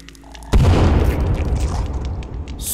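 An explosive detonates in The Forest survival game: a sudden loud boom at about half a second, with a heavy rumbling tail that stays strong and slowly fades over the following two seconds, no voices.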